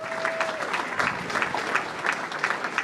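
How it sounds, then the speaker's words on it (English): Audience applause for business award finalists at a Business of the Year awards event, even continuous clapping from a room of people, moderately loud, with a faint tone at the start. "Let's give our finalists one final round of applause"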